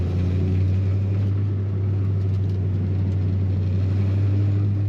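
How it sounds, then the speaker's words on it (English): A 1967 Ford Mustang Coupe engine accelerates on the road, a steady low rumble with a strong hum and a slight rise in effort, heard from inside the car without talk. "And there's that fun acceleration again."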